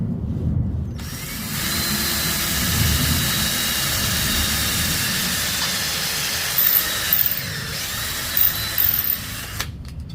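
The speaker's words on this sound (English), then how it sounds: "we just gotta drill the bottom last piece here" A power drill whines steadily for several seconds at close range, drilling into wood while repairing a dethatching rake, broadband and continuous, with a few brief bursts near the end before it stops.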